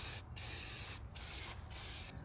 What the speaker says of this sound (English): Now we're going to do the frame undercoating on the inside of the bumper.